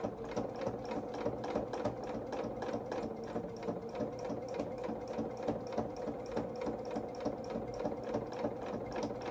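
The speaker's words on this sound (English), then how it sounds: "So let's sew along the back of this collar for now." A sewing machine runs steadily and close, stitching along the back of a small coverall collar for a toy rabbit's mechanic outfit, a fast even mechanical whirring with rapid needle clatter that holds a constant pace throughout.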